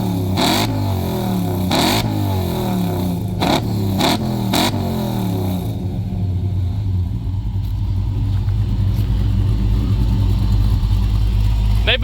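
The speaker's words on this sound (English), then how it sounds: "let's hear a little rev up with this outside." Car engine fitted with Hooker Blackhawk mufflers, revved outdoors in several sharp throttle blips over a rumbling idle, then holding a deeper steady rumble; a voice is faintly present.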